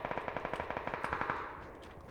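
Rapid automatic gunfire in PUBG, a full magazine emptied in a steady burst of about twenty evenly spaced shots, loud and close, ending in a short echoing tail with no talk over it.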